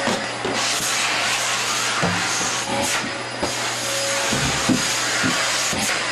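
A vacuum cleaner runs continuously with a loud, steady hissing whoosh, broken by brief knocks and rubbing as it is moved around a home in Japan.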